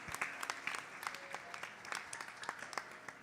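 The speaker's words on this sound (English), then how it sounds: "yes, give him a round of applause." Applause from a Hindu temple congregation at a Krishna Mandir service, offered as birthday greetings; scattered, uneven clapping rises and falls over a few seconds at moderate distance with no talking.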